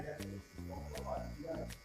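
Electric hair clipper buzzing in short bursts as just its tip trims hair for a low fade haircut, a close steady hum with a voice talking over it.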